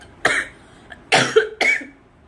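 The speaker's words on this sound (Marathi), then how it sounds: "आता खोकला येतोय" A few harsh, close coughs in quick succession, one short burst followed by two heavier ones, with quiet between them.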